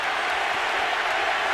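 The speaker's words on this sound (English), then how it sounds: "the crowd picks up the chant." Large arena crowd at a boxing match, a dense and loud continuous roar that could be chanting, with no individual voices standing out.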